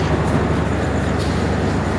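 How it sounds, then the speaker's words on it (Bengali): Steady, dense rumble of a waiting train at Natore railway station in Bangladesh, where the Simanta Express halts, with an unbroken wash of low engine and platform noise throughout. "নাটোর রেল স্টেশনে অবস্থান করছি"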